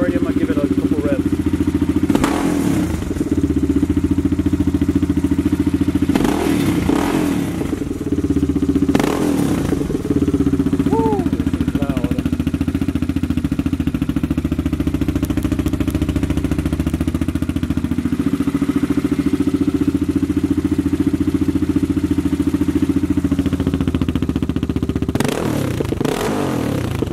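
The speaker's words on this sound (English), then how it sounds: "Alright, looks like it's warmed up already. I'm gonna give it a couple revs." A warmed-up Yamaha Raptor 660 ATV engine idles steadily nearby, with a few sharp revs rising and falling, occasional clatter and a voice speaking over it.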